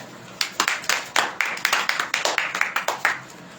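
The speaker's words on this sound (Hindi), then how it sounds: "सब जन ताली" A church congregation at a fasting prayer service claps in a steady, fairly quick rhythm of roughly a dozen sharp group claps, close and loud.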